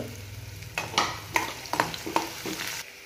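Garlic, green chili and asafoetida sizzling in about two spoons of hot oil in a kadhai, a steady close fry broken by several sharp stirring scrapes of a spoon against the pan.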